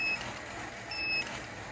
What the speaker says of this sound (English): It'll give me 3 beeps.